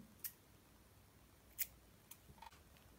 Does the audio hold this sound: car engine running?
no